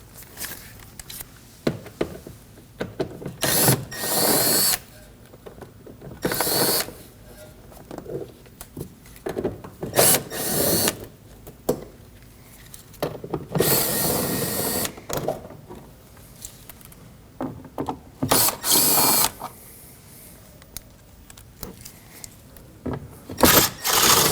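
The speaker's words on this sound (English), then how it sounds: "We need to remove the driver's side front fender liner. We have a bunch of T15 Torx bits that we're going to remove." Driver's side front fender liner T15 Torx screws come out of a 2015-2022 Chevrolet Colorado 3.6L V6 in repeated short, close bursts of driver whirring separated by brief pauses and small clicks.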